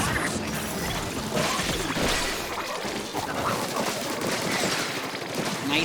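Rapid gunfire and missile blasts crackle in a Splatoon match, a dense continuous barrage of close shots and bursts filling the whole stretch.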